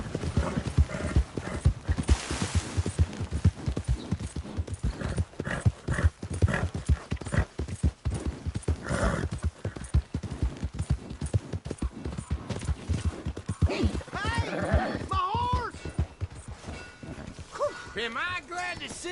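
Horse hooves clip-clop in the Red Dead video game, a steady run of close, rhythmic hoofbeats with an occasional whinny, as characters talk over them.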